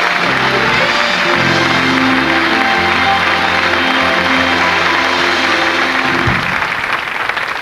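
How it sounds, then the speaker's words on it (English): Studio audience at a magic show applauding loudly and steadily for several seconds, a dense wash of clapping with some cheering that eases slightly at the end. "a bigger round of applause for the completely mental Debbie McGee"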